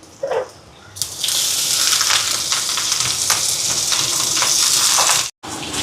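Cabbage is tipped into a pan of sautéing onions with lentils and grated coconut, setting off a loud, steady sizzle and hiss that carries on for several seconds before a brief break.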